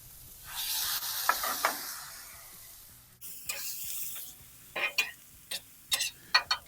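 Beef and vegetables sizzle on an oiled grill set around 375 to 400 degrees: a soft hiss at first, then sharp clicks and crackles as food is laid down and shifted, with no talking.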